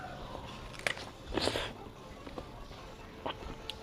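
Grapes are bitten and chewed with the skin on, giving soft crunchy bites and wet chewing sounds up close, fairly quiet overall.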